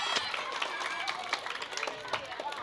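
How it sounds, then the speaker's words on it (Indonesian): A crowd claps during an evangelist's church service, giving a busy, uneven patter of hand claps with some crowd noise mixed in. Several sharper claps stand out above the rest. "Kasih tepuk tangan dulu dong."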